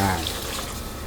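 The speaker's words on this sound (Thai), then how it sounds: "เทน้ำใส่ครกเพราะว่าเขาจะมี เครื่องที่เราตำไว้นะครับเราเทลงไป" Water tipped into a mortar to rinse out freshly pounded Thai curry paste makes a brief, close splashing pour lasting about a second, with no speech over it.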